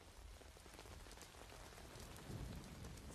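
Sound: rain in a scene from Arcane

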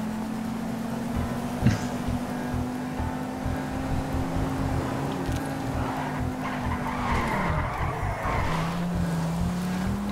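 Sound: coupe car tires skidding in video game GTA 5 Online

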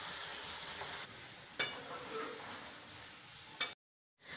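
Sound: chicken karahi masala frying in a pan

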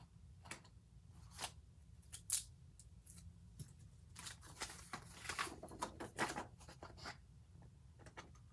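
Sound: scissors cutting paper for planner spread

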